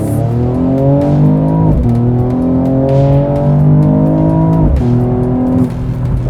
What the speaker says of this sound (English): E53 AMG, all systems on, foot to the ground.